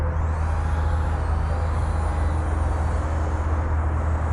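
An Xfly SU-57 twin 40mm electric ducted fan RC jet flies overhead with a constant loud whooshing fan whine and steady rumble, with no talking.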